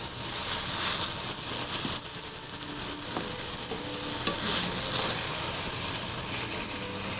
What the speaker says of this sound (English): we'll go ahead and add our spinach in one big clump